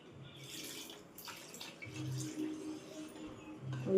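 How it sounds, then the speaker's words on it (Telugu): Water poured into a cooking pot while making sambar gives a soft, steady splashing and trickling rush, fairly quiet, with no voices. "ఇప్పుడు కొంచెం నీళ్ళు పోసి"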